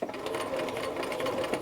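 A sewing machine runs steadily while backstitching the seam on a flap pocket for McCall's 8031, a continuous close mechanical whir with no pauses.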